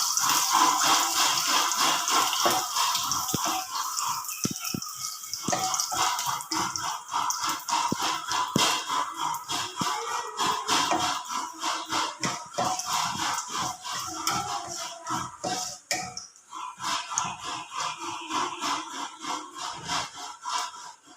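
Mustard seeds crackle and pop in hot oil alongside cumin, fenugreek and curry leaves, a dense run of sharp, irregular snaps and sizzles that holds steady and fairly loud the whole time, with no voices.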